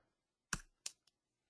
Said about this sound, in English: So I'm going to start typing in the box here.